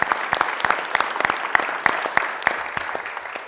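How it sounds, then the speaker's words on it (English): A small city council meeting audience applauds families, with scattered, uneven handclaps from a modest group that stay fairly close and lively before thinning slightly toward the end. "Can we get applause for their"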